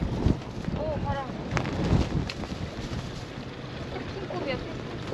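Wind gusts buffet the microphone aboard a small fishing boat at sea, a broad rumbling roar with irregular thumps. A voice speaks briefly over it.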